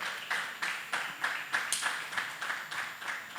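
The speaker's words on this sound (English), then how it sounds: "Please keep clapping till she sits down." Thinner applause from a music business panel audience as the guest, Ifeyinwa Anyadiegwu, walks to her seat; separate claps land in a steady, almost rhythmic beat of about three per second at moderate volume.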